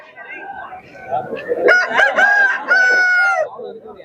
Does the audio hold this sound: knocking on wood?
no